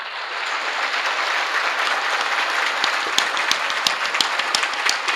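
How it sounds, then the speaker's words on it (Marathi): Audience applause for saints at a Hindu temple idol consecration ceremony: steady, dense clapping from a large crowd, sustained throughout at even loudness with a few sharper individual claps standing out near the end. "एकदा कमीत कमी 1 मिनिटभर सर्व संतांसाठी टाळी वाजवा."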